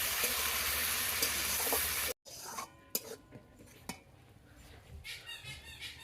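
A paste of tomato, cashew, ginger, garlic and onion goes into a pan for a cauliflower, pea and paneer curry, bursting into a loud sizzle before cutting to quieter spoon scrapes and clinks against the pan.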